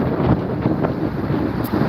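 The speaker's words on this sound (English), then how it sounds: "It's very windy out here." Steady wind buffets the microphone with a continuous low rumble and gusty roar, no voices.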